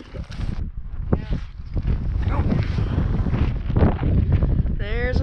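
Strong wind gusts buffet the microphone on a lake during fishing, a loud, steady low roar with brief voices breaking through.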